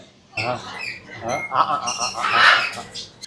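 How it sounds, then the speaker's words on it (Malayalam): A macaw at a pet market in Sharjah gives a few harsh, raspy squawks close by, mixed with a person's voice and the market's background chatter. "മുകളിലൊരാളുണ്ട് പഞ്ചവർണ്ണത്തത്ത."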